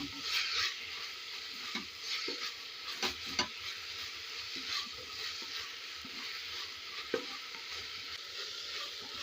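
A spatula stirs and sautés ingredients in a hot pan while cooking meat rice. A soft, steady sizzle runs throughout, with light scraping strokes recurring at an irregular pace.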